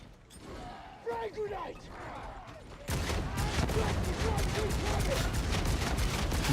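Heavy sustained gunfire in the Darktide video game, a dense continuous burst of shots that starts abruptly after a quieter stretch with mechanical clanks and voices, then stays loud and steady to the end.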